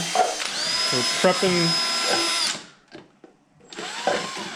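A handheld power drill whirs at a high, steady pitch for a couple of seconds while preparing supplies for indoor seed planting, then stops; a person's voice talks over and after it at close range.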